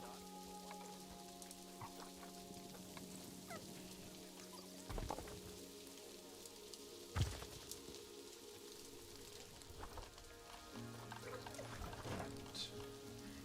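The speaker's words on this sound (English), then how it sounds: "We've got some rain." Rainfall in a video game patters and trickles quietly and steadily, with a few brief louder knocks and background tones running underneath.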